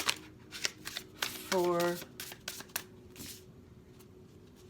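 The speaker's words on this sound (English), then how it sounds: "This is the second time I've shuffled" Tarot cards being shuffled by hand during a full-moon reading, a few quick riffling bursts close by, with someone talking softly over and between them.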